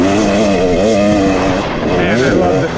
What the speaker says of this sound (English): Man, I love the power of the two-stroke